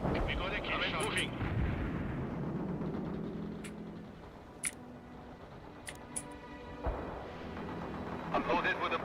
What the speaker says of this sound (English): Fire! Firing the heat round.